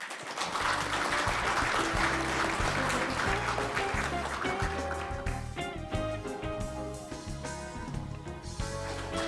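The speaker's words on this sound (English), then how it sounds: "Please welcome him with a big round of applause." An audience applauding at a sustainable finance forum, a dense wash of clapping with steady background music rhythmically thumping underneath, holding strong throughout before gradually thinning.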